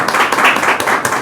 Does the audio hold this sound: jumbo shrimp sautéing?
no